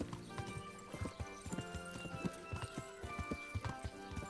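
Horse hooves clip-clop at a walking pace in the medieval video game Kingdom Come: Deliverance. The knocks are quiet but clear and evenly spaced, with a faint neigh and soft game ambience behind them.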